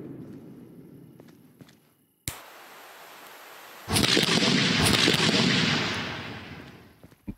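Fireworks going off in the game Fireworks Mania: a sharp crack followed by a steady hiss, then a louder, dense burst of crackling explosions that slowly fades out, with no talk.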